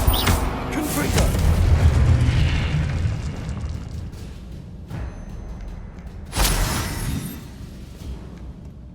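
A Confringo blast spell cast in the Hogwarts Legacy video game, heard as heavy booming bursts, one near the start and another later, each decaying into a rumbling tail.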